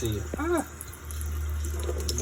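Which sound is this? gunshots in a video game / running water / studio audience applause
running water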